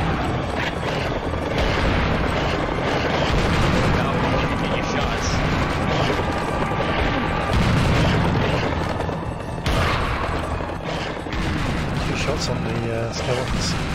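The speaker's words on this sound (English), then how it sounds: "Double barrel shotgun." Double barrel shotgun blasts in the Serious Sam HD: The First Encounter shooter, heavy booming shots layered in dense, loud, continuous game combat noise with a voice talking over it.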